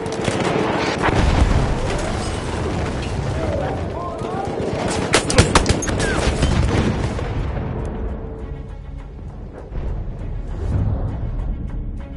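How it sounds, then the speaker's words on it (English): Machine gun fire in Battlefield 1 on PS4: dense, sustained automatic bursts with booming explosions in the background, loud and continuous throughout, fading somewhat near the end. "machine gun over there."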